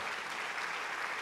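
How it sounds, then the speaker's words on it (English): Audience applause for mentors at the season finale of a Christian community gathering, a steady dense wash of many hands clapping with no pauses or voices. "let's give them that wonderful round of applause for all of them"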